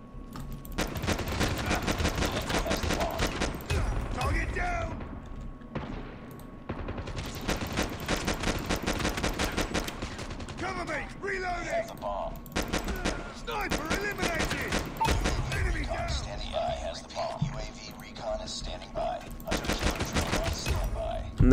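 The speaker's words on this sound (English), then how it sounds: "Let's try and kill everyone with a pistol." Pistol gunfire in the mobile shooter Call of Duty Mobile, played on PC: rapid bursts of loud close shots, packed and repeating in clusters with brief pauses between firefights.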